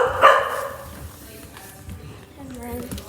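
Dogs bark and yip nearby in short bursts, loudest near the start and again toward the end, with brief whimper-like sounds around them.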